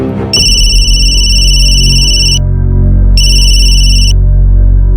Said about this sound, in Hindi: मैं सुनील को फोन करता हूँ।